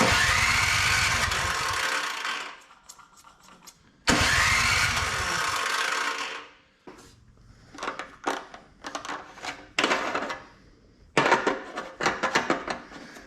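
A Craftsman MTD snow blower engine cranks over repeatedly in loud, sputtering bursts, never catching, with brief quiet gaps and clanks between attempts.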